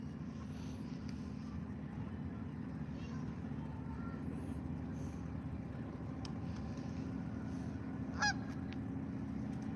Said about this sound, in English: Them geese are still over there.